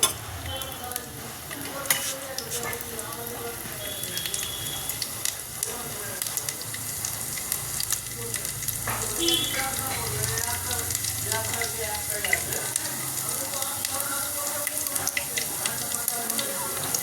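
Whole cumin seeds and chopped garlic sizzle in about three tablespoons of hot white oil, a continuous crackling fry with stirring clinks and scrapes throughout.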